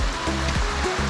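Rushing water from a small waterfall on a creek along a plateau wilderness trail, a steady broadband roar with no voices.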